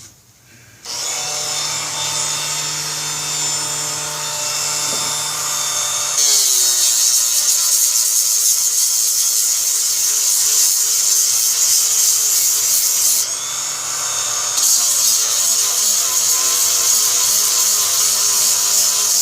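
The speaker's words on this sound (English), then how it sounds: "I'm going to sand this paint off around here because I want the glazing putty to stick good" Paint being ground off a Bondo-covered car fender with a 40 grit sanding disc on a power tool, a loud continuous abrasive whine and rasp that shifts pitch as the disc presses and lifts, running steadily alone.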